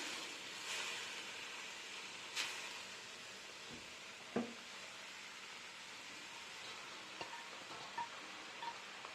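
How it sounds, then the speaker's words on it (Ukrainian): Cabbage added to a pan for cabbage-and-meat pies fries with a soft, steady sizzle, punctuated by a few faint clicks and scrapes of stirring, quiet and with no talking. "Додаємо зараз капусту."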